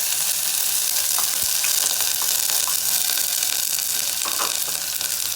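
Chopped onions frying in a pan for a mushroom biryani, a loud, steady, close sizzle with faint clinks of stirring and no talk.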